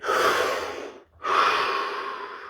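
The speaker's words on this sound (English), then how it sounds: "Take that breath." Two long, deep breaths drawn in close to the mic, each a loud airy rush separated by a short pause, with no talking.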